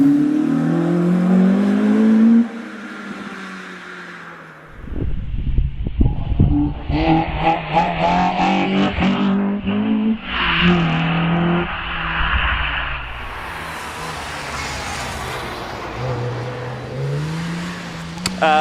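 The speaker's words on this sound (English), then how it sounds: "Absolutely fantastic in this 205 GTI, MI16, big trumpets" A Peugeot 205 GTI MI16 rally car with big trumpets charges up a hillclimb, its engine revving hard through sharp gear changes and bursts of acceleration, loud and close, with a smoother passing drone later.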